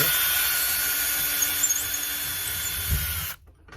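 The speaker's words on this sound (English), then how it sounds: "now what I've got to do is get the hole drilled" A power drill bores a hole for a garage door roller, its steady close whine running for about three seconds before cutting off abruptly near the end.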